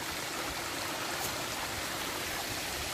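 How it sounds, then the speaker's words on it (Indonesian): A small river stream flows steadily along a trekking trail through hill country, a dense, continuous rush of water close by with no voices. "Kita ketemu sungai kecil lagi, guys."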